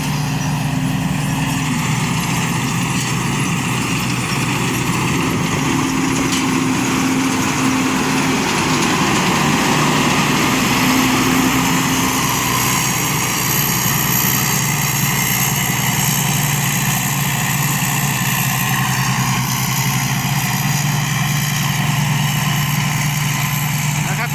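A Thai Sing farm tractor works a dry-season rice field in Roi Et, Thailand, its engine droning loud and steady for the whole stretch, with a voice talking over it.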